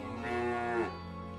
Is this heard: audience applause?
no